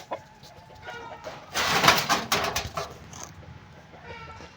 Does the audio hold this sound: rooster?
yes